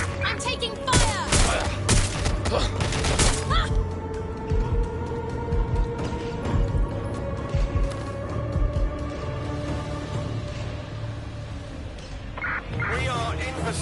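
Heavy gunfire in the shooter Watch Dogs Legion, with dense bursts and scattered shots throughout, loud and close, mixed with in-game voices and mechanical clatter.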